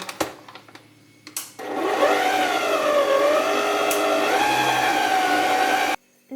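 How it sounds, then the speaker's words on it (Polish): An electric mixer beating cookie dough for crumbly nut and cinnamon Christmas cookies after an egg is added. A few knocks come first, then a loud, steady whine with a slightly wavering pitch that cuts off abruptly. "Gdy składniki się połączyły, wbijam drugie jajko. I dalej miksuję."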